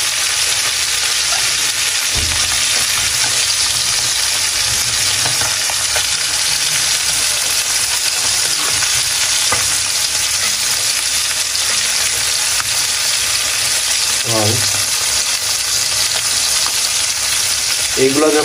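Koi fish full of roe fry in hot oil, a loud, continuous sizzle and crackle with a few brief clinks and scrapes of stirring breaking through now and then.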